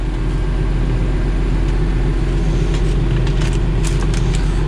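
A small 90-horsepower Carraro tractor engine runs at a steady idle just after catching, giving a loud, constant low rumble with a fine rhythmic throb and no speech over it.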